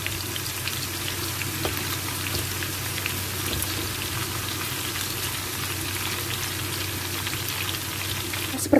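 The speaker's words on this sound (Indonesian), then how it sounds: "Panaskan minyak, masukkan bawang bombay. Nah, ini digoreng sampai warnanya kecoklatan" Onions frying in hot oil in a pan, a constant close crackling sizzle with fine popping that holds steady throughout, no voices.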